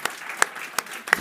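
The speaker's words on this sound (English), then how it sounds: "I'd like to thank the panelists. A big round of applause." A small audience at a blockchain adoption panel gives the panelists sparse applause, a handful of distinct, close claps spaced out over about a second.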